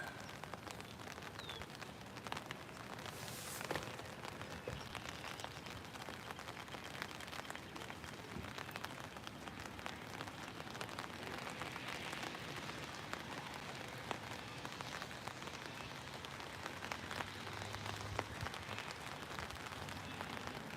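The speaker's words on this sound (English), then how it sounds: "Right now it's coming down, not too bad, but coming down pretty good." Steady rain shower pouring down outdoors at a fishing spot, a dense continuous hiss of drops hitting surfaces, fairly close and even throughout with no talking.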